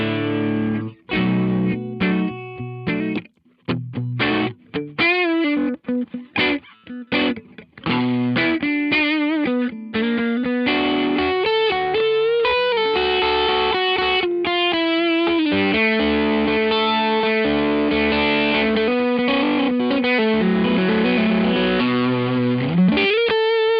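An electric guitar plays through a Laney LA-Studio amp and speaker, with distorted, effects-laden tones. Quick choppy phrases with short gaps lead into sustained chords and melodic lines, loud and close, with no talking.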